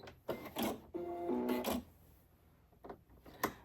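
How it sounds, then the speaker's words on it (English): A sewing machine running a few short bursts of stitching, including back stitches, with brief whirring runs separated by pauses and small mechanical clicks, heard up close. "stop sewing, back stitch, and cut your thread"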